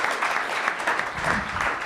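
Live audience applause during a business talk, a brisk even spread of many people clapping for nearly two seconds at steady loudness.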